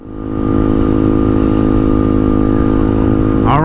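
A motorcycle with a newly installed exhaust drones loudly and steadily up close as it rides, the engine note swelling in at the start and a rising rev sweeping up at the very end.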